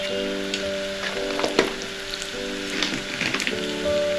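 Cumin and asafoetida fry in hot oil for an eggplant bharta, giving a loud, continuous close sizzle with bursts of crackling and spattering.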